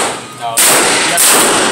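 A 9mm handgun fires at a shooting range, two sharp loud reports about half a second apart ringing through the space, close to the listener.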